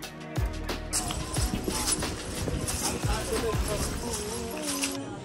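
Horse plodding along the Vaishno Devi pilgrimage path, hoof clops under a busy mix of nearby voices and crowd chatter.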